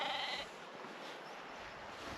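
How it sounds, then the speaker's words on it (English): A sheep bleats once on a hillside in the Lake District near Troutbeck, a short, faint call at the very start, followed by quiet outdoor hiss. "Morning sheep."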